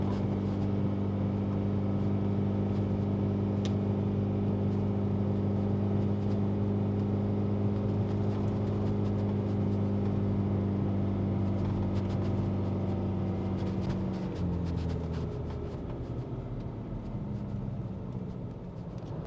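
Stock exhaust of an Isuzu D-Max held steady around 2,500 rpm in second gear on a back road, a constant low engine drone heard from inside the cab that eases off near the end.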